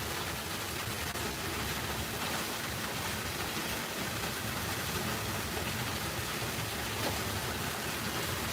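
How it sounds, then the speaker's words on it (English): Steady, broadband rain falls during a tropical thunderstorm, a constant hiss of drops with no pauses, voices or thunder. "the rain's calming down now"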